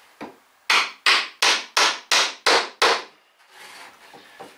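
Seven loud, evenly spaced hammer blows drive wedges into pallet wood in a steady rhythm, followed by softer scraping and rubbing.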